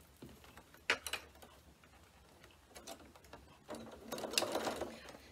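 Layers of a sequin pencil case are stitched on a sewing machine in a few short, faint bursts of mechanical whirring and ticking, with a longer run near the end and quiet pauses between.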